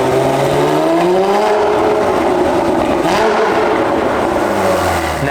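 A Porsche GT4 with a 4.25-litre built engine revs loudly and up close, its pitch climbing and falling through several sweeps with a sustained mechanical roar and no talk over it.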